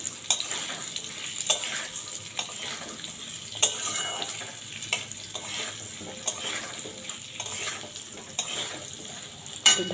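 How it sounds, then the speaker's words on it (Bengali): Potato pieces frying with panch phoron in hot oil are stirred with a utensil, giving a soft, steady sizzle broken by repeated sharp scrapes and clinks against the pan. "আলুগুলো দিয়ে একটু নাড়াচাড়া করি, একটু ভাজা ভাজা হলে তারপর কুমড়ো আর বেগুনগুলো দেব।"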